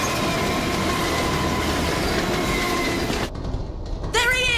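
A cartoon train rolls along its rails with a loud, steady rumble and clatter of wheels, then cuts off abruptly into a quieter passage with a brief high whine near the end.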